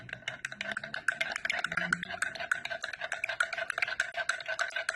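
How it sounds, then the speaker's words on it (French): A spoon stirring collagen powder into a drink, rapid rhythmic clinks against the glass repeating steadily and close, with faint talk underneath. "il faut bien le mélanger pour pas qu'il reste des grumeaux en fait dedans"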